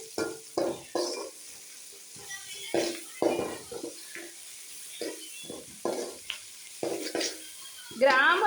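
Tomatoes and onions sautéing in a pan, with a soft sizzle broken by repeated scraping and stirring strokes in an irregular rhythm, close and fairly quiet.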